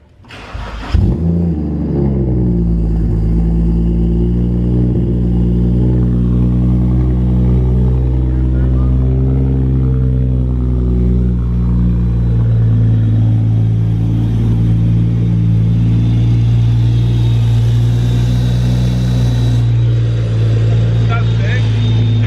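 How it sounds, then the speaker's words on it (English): A turbocharged BMW 335i engine cranks and catches, then settles into a loud, steady idle with a deep rumble and a faint high turbo whine rising over it. "The turbo's spooling at idle. It's pretty loud."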